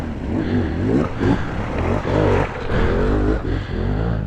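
An enduro motorcycle engine revs hard on a rough Yorkshire Dales trail, surging and dipping in repeated bursts of throttle, loud and close with a rasping, clattering edge.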